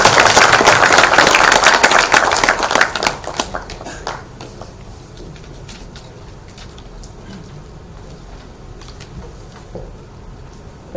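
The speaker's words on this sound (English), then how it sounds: "Can I have a round of applause," Audience applause at a civil services workshop held at JNU, loud and dense for the first three seconds, then thinning into scattered claps that fade to quiet room noise.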